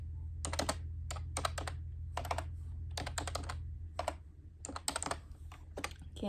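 A computer keyboard clatters under quick bursts of typing, clustered keystrokes separated by short pauses, close and clear over a low steady hum.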